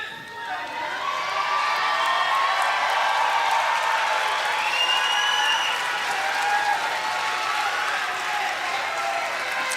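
A graduation audience at a Galen College of Nursing ceremony in Louisville bursts into sustained applause, a dense wash of clapping with some cheering and whoops that holds steady for several seconds, heard from within a large hall.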